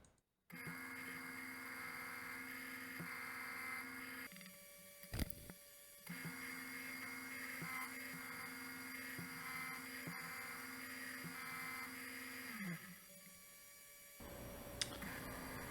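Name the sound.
milling machine squaring steel bar stock with a 4-flute end mill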